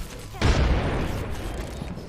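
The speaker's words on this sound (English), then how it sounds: "it's a grenade" A grenade goes off in the video game Apex Legends, a sudden heavy boom that bursts in and rumbles on for over a second and a half, with low game noise underneath.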